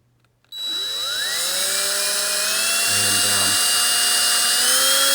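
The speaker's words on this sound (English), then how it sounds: "we're going to start drilling here" A power drill whines up to speed after a brief quiet start and keeps spinning steadily at a high pitch, drilling holes in a kitchen cabinet door, its tone dipping briefly midway.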